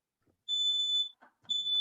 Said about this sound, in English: My fire alarm's going, smoke alarm's going off